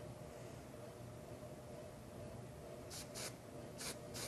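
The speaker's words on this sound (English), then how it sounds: "Finish off with our amazing Control Force hairspray." Control Force hairspray sprayed in a salon, four short hissing bursts near the end over a quiet background hiss.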